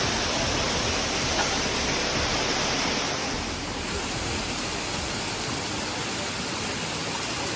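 Tumpak Sewu waterfall roars as a steady, dense wash of falling water, loud and continuous for the whole stretch with no voices.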